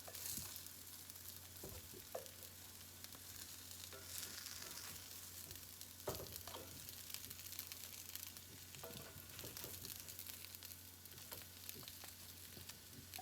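Salmon patties fry in a pan with a continuous close sizzle and crackle, broken by occasional sharp spatters and soft stirring or shifting sounds, with no talking.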